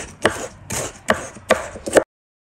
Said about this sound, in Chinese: 再准备几颗大蒜，剁成蒜末